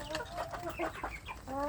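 Two-month-old village chicks clucking and peeping close by in a busy, overlapping chorus, steady throughout the short stretch.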